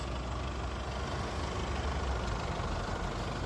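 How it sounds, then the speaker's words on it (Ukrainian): A 2020 four-wheel-drive passenger vehicle's engine idles with a low, even rumble, steady and close, with no speech. "Послухайте, який двигунчик працює."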